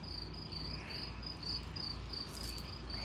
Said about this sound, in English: All I hear are the crickets